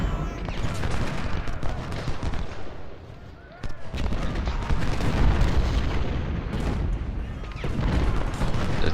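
Dense, continuous battle din of cannon and musket fire from a Civil War game at First Bull Run, with booming volleys and crackling shots rolling on nearly throughout, briefly dipping around the middle before surging loud again.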